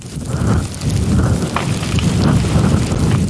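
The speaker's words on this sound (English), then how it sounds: "The freezing rain won't let up." Steady, heavy freezing rain hisses and patters continuously during an ice storm, with a low rumbling undertone, like a dense storm heard close by.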